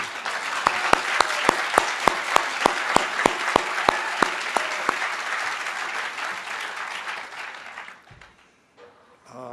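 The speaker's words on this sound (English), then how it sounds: "Let's have a big round of applause" Enthusiastic applause from an audience at a groundbreaking ceremony, dense and sustained, with a few sharp claps standing out before it dies away.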